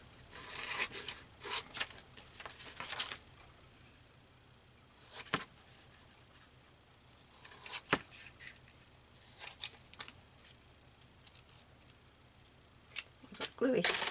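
Scissors or a blade cut along the bottom seam of a material. Short, soft rasping snips come in scattered bursts, close by and fairly quiet, with sharper clicks between them and people talking now and then.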